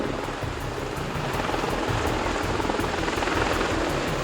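A V-22 Osprey tiltrotor aircraft flies with a steady, loud broadband rotor roar and rhythmic blade thumping, continuous with no speech.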